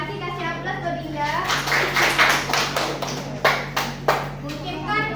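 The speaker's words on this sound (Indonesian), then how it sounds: "Kasih aplaus buat Linda." Applause for a student named Linda in a classroom group session, a few scattered claps rising out of lively chatter from the group.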